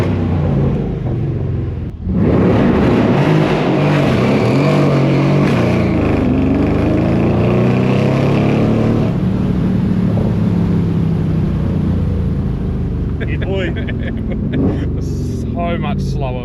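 A car engine roars and accelerates away at a Cars and Coffee meet in New Zealand, loud and sustained before fading into the distance, with people talking excitedly over it.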